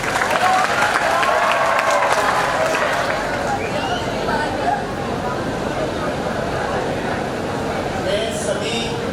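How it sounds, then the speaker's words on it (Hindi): Loud, sustained crowd clapping fills a hall at a 2019 DCI victory celebration as a speaker named Yogesh is welcomed, a dense, even roar of hands with no letup. "योगेश सर का आप लोग जोरदार स्वागत करें ताली के साथ।"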